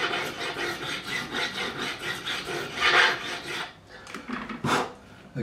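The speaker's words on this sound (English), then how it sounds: "We're going to take the profiling file, and I'm going to remove any burrs or any inconsistencies in my" Hand filing of stainless steel guitar frets with a profiling file on a Warmoth neck, a steady close rasping scrape in repeated strokes that pauses near the end before a final short stroke.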